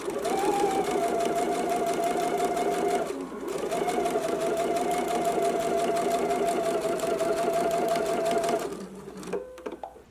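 Sewing machine stitching a narrow hem on fabric, a loud, close, rapid mechanical whir running continuously, pausing briefly once, then stopping near the end with a few soft handling clicks.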